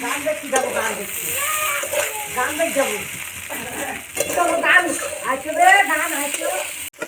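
Chow mein with fried egg, cauliflower and potato being stirred in a hot pan, giving a steady sizzle with scraping and tossing sounds, while a person talks over it throughout.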